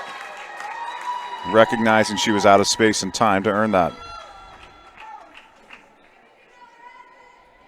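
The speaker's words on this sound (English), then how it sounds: "a round of applause from the Newfoundland Labrador faithful in attendance" Spectators applaud at a girls' under-16 soccer bronze medal match, a soft scatter of clapping under a commentator's voice that lingers faintly after the talking stops.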